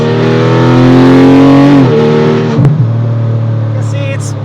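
A Porsche Cayman GT3 with PDK dual-clutch gearbox at full throttle, its engine note loud and steady before a gearshift drops the pitch, then the revs settle back with a brief mechanical clunk.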